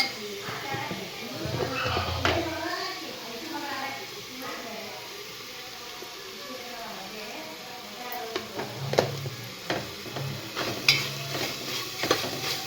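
Ground masala and turmeric stirred and frying in a pan, with a soft steady sizzle and scraping strokes of a utensil, under a person talking nearby.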